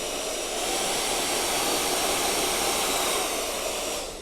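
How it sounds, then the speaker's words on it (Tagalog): A FEIL Plus infrared hair dryer runs with a steady, even airy roar for about four seconds. The noise ramps up slightly at the start and drops off at the end, with no voices. "ito na ang ating FEIL Plus hair dryer. Infrared technology."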